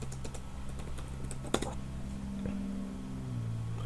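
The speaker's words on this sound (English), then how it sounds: "if I try to type message, still muted?" Clicks of typing on a computer keyboard while entering a chat message, a run of quick light taps up close over a steady low hum, with one sharper key strike standing out.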